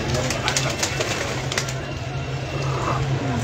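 Pigeons in a loft give soft, continuous cooing close by, with a steady low hum underneath.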